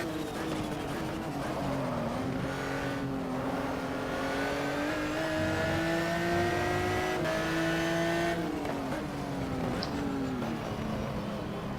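Race car engines in the GTR 2 racing game, with a Ferrari running close ahead, drone loudly and continuously, the pitch climbing and easing through gear changes with a brief shift near the end.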